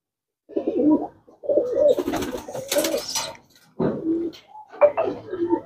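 Teddy breed pigeons coo in soft, throaty phrases, close and fairly loud, in several bursts with short pauses between them and no talk over them.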